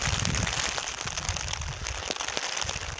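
Steady rain falls outdoors near Harishchandragad during crab catching, a continuous hissing patter on surfaces with no talk.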